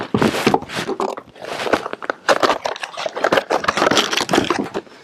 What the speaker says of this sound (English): we're going to load up a couple of slugs